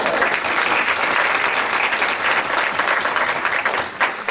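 A roomful of people at a board meeting keeps clapping for a volunteer, a continuous wash of applause that stays full and steady until a slight dip near the end.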